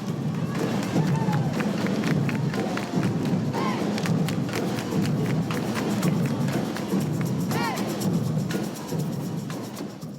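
A dense crowd gathers at a Culture Night carnival parade. A constant outdoor murmur of many voices runs throughout, with scattered shouts, footsteps and occasional taps in the bustle.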